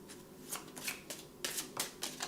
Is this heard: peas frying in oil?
no